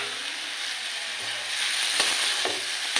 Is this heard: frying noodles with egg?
yes